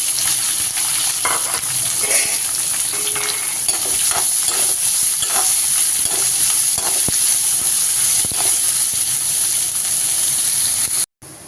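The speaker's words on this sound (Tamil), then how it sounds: "வெங்காயத்தை சேர்த்து நல்லா வதக்கிக்கலாம்" Onions sautéing with curry leaves in a pan for beans poriyal. A loud, continuous sizzle runs throughout, broken by frequent stirring clicks and scrapes, with no speech, and cuts out abruptly near the end.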